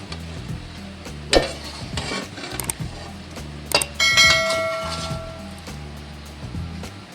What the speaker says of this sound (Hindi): और इसको मज़ीद तकरीबन 4 मिनट तक भून लेते हैं